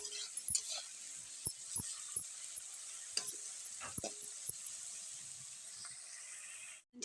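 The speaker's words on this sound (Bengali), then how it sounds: "এখানে আমি পেঁয়াজটা দিয়ে দিচ্ছি আর ভালো করে একটু লাল লাল করে নেব" Onion frying in a pan, a soft steady sizzle running throughout with occasional sharp clinks and scrapes of stirring, at moderate distance and fairly quiet.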